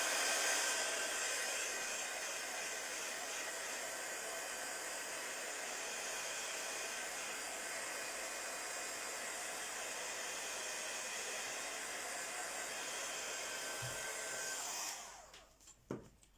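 A hair dryer dries an art journal page with a steady, continuous whooshing hiss that runs unbroken before switching off near the end, leaving a few faint handling knocks.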